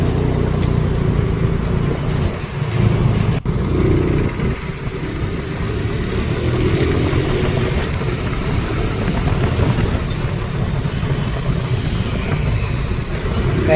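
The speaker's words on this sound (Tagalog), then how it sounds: "Yan ang motor araw-araw." Motorcycle riding on the road in the early evening, a steady, loud engine drone with wind rumble that holds evenly throughout.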